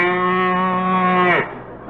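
A cow moos once as a sound effect on a 1945 radio comedy show, a long, steady, close, loud low call that ends in a falling drop.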